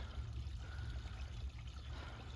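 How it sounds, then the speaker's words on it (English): A small forest stream trickles through snow in Switzerland, a soft, steady wash of running water heard faintly and continuously without any talking. "You can hear the voice of the water rivers."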